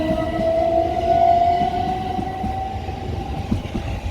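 A train passes close by on a line in West Sussex, a loud rumble of wheels with a sustained tonal whine running over it.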